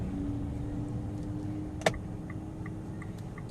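Inside a 2015 Mitsubishi All New Pajero making a U-turn, a steady low road and engine drone continues throughout, with one sharp click partway through.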